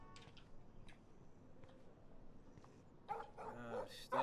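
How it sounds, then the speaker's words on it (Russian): A dog barking and yelping in the video game Life Is Strange, a short burst of two or three sharp barks near the end after quiet ambient game sound, with no talk. "Уймись, прекрати лаять."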